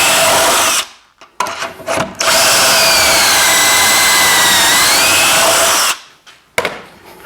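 A power drill bores holes in a bookshelf panel, giving two loud whirring runs: a brief burst followed by a long steady drilling stretch, separated by short pauses.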